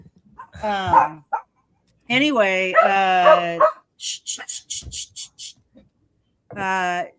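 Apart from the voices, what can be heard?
dog barking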